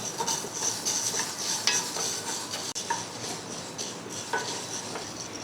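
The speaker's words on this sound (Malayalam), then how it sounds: "ഇതൊന്ന് വറുത്തെടുക്കാം. ഇതിൻ്റെ കളറൊക്കെ ഒന്ന് മാറണം, നല്ലൊരു മണം വരും, അതുവരെ ഒന്ന് ഇളക്കി കൊടുക്കാം." Green gram dry-roasts in a pan over a medium-low flame, stirred continuously with a spoon, giving a steady close rustling scrape and light rattle of the grains, with no talking.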